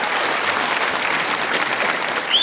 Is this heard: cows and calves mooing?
no